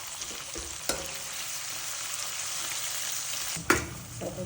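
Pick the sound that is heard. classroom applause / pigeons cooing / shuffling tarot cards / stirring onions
stirring onions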